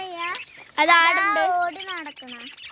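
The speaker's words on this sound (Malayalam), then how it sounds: "അതാണ് എൻ്റെ അനിയത്തിൻ്റെ ഏറ്റവും ഇഷ്ടപ്പെട്ട കിളി" A lovebird calls in a series of warbling, harmonic notes, loud and close, with short pauses between phrases.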